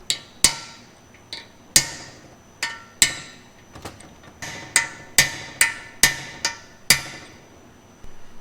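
Sharp metallic taps ring out as small plugs are driven into a Pontiac 350 engine block with a socket, about a dozen irregular close hammer blows with brief ringing decay.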